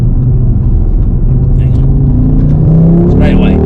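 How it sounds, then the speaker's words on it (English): An Audi RS3 8Y fitted with a Milltek race exhaust accelerates, its engine a loud, close, deep droning rumble that rises steadily in pitch, with a voice speaking over the top. "I can honestly say this Milltek exhaust, I mean, I'm saying it's good and it sounds great"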